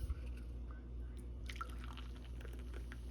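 Foaming liquid is poured into a bowl for fish and chips batter, giving a quiet trickle with soft drips and wet fizzing that grows busier partway through and stays faint.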